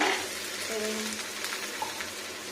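Chicken frying in spiced oil, a soft, close sizzle with light clinks and stirring, no talk heard.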